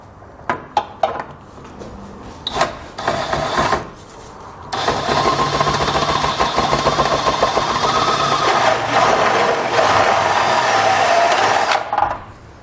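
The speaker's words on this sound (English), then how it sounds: "So I'm going to use a step bit to make it bigger." Step drill bit grinding to enlarge a hole in steel car frame metal on a 2016 Infiniti Q50, with short bursts at first, then a steady, loud, close whine of cutting that runs for several seconds before stopping.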